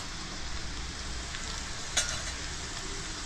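Spices such as asafoetida and turmeric hit hot oil for a potato curry, with chili and ginger already in the pan, giving a low, continuous sizzle and a single sharp clink midway.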